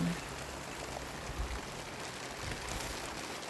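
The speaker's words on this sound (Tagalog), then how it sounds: "Umuulan." Rain falls steadily outdoors on a farm in Canada, a soft continuous hiss of drops without talk, fairly quiet and even throughout.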